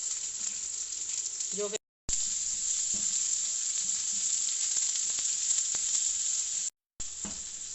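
Onions frying in hot oil with cumin and mustard seeds give a loud, continuous sizzle with occasional stirring scrapes, broken by two short silences, and a voice speaks briefly.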